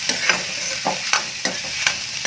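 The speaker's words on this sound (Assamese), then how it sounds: "এয়া বইল কৰি লোৱা আলুকেইডোখৰ। আৰু এতিয়া ভালদৰে লৰাই দিম।" Boiled potatoes frying in a pan with nuts for masala dosa filling, stirred in about six quick scraping strokes over a steady close sizzle, with no voices.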